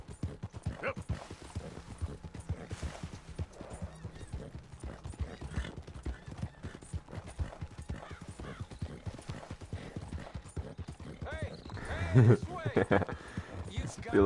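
A Red Dead Redemption 2 horse pounds along at a gallop, its dense, even hoofbeats close and prominent, while someone talks over them; a neigh and louder clatter stand out near the end.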